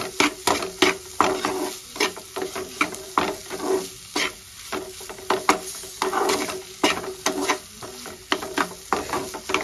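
A spatula scrapes and stirs a grated paneer and cheese spring-roll filling in a hot pan, in repeated rhythmic strokes over a continuous soft sizzle, close and fairly loud.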